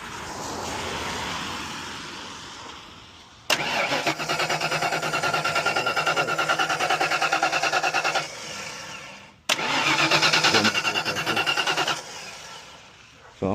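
A Ford Mustang Foxbody with no fuel pressure cranks without starting. The starter churns in two long, loud, rhythmic bursts separated by a short pause, and the engine never catches.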